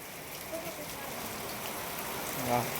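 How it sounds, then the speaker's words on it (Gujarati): Heavy night rain patters down in a constant, moderately soft wash in Lathidad village, Botad district, with a brief voice murmuring faintly near the end. "અત્યારે રાત્રિનો વરસાદ છે ફૂલ"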